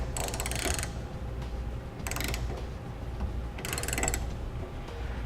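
Three bursts of quick ratchet clicking come from tightening down the front of a Thule TracRac SR base rail on a truck bed, each about a second long with short pauses between, close and clear, no voices.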